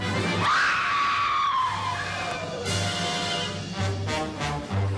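A shrieking scream rings out from a madman's castle, a long high wail that rises and bends over a few seconds above a steady low hum, with more faint cries after.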